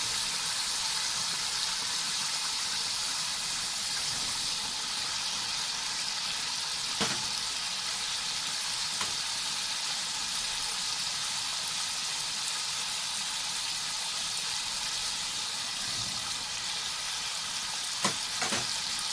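Frozen peas and potatoes frying in oily masala for matar pulao, a steady close hiss of sizzling throughout with a few sharp clicks of stirring against the pan.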